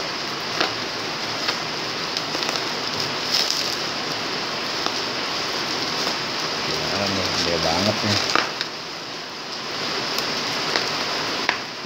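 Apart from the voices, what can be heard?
rain falling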